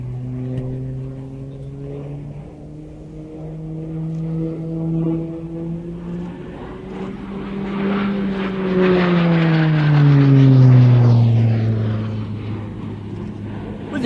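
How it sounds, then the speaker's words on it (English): A Pilatus PC-9M turboprop trainer of the Slovenian Air Force performs at the Royal International Air Tattoo 2022. Its propeller drone rises in pitch as it approaches, then falls sharply as it passes close by and pulls away. "With the Pilatus PC-9M from the Slovenian, if you can say it, Slovenian Air Force."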